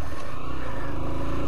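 A Honda XR125 four-stroke motorcycle rumbles loud and close while being ridden, its engine holding a steady, throbbing drone throughout the short moment.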